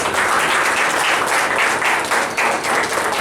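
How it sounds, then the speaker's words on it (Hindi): Loud, dense applause from a crowd at a public honouring ceremony for a police SIT team in Jaynagar, Madhubani, a steady sustained roar of clapping with no talk over it. "सम्मानित करेंगे जोरदार तालियों के साथ"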